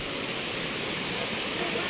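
A waterfall near Antipolo, Rizal, gives a constant broadband rush, steady and unbroken, heard alone with no voices.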